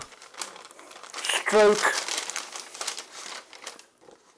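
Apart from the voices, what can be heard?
plastic bag crinkling as a Tamiya model is unwrapped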